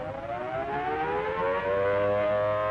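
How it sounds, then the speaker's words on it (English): Air raid sirens wail in a 1942 radio drama, a steady rising-and-falling civil defense tone that swells louder and holds, sounding alone with no voices. "can you hear the sirens?"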